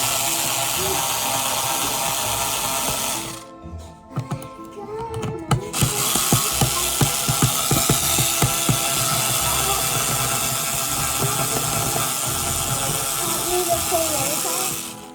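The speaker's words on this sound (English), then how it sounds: "go ahead and take the screws off" Screws being taken out of a motorized skull assembly for a 12-foot skeleton: close ratcheting clicks and mechanical rattles repeat over a steady background hum, with a brief quieter break.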